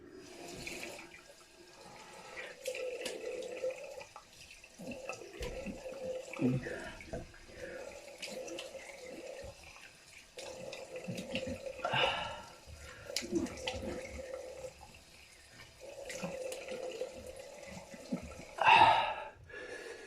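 Running tap water splashes intermittently as shaving soap lather is rinsed off a face at a sink, with breathy gasps and soft handling noises, fairly faint and close.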